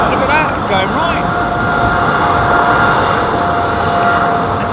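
A jet airliner's engines spool up on departure at London Heathrow, a loud, sustained roaring whine filling the whole stretch, with voices talking over it.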